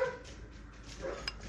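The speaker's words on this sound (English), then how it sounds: "That was my dinner barking." A dog gives a couple of brief, sharp barks and yips, close and moderately loud, with no one speaking.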